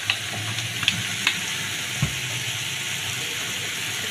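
Food frying in oil in a large kadhai, a steady close sizzle with soft crackles and a few faint clinks from stirring, with no talking.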